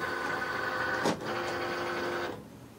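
A Cricut Explore Air 2 cutting machine pulling in its mat, a close motorized whir with a steady tone, one brief sweep near the middle, then winding down to quiet.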